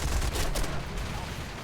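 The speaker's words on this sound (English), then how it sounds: "Whoa, look at that fire coming in. Cannon and machine gun fire." Cannon and machine gun fire in the War Thunder flight game, heard as dense, continuous crackling bursts of gunfire that stay loud and steady throughout with no pauses.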